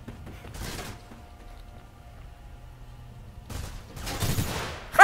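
Gunfire in the video game Mirror's Edge: a short burst of shots opens the clip, then a quieter stretch of low hum, and a louder, denser clatter of shots near the end.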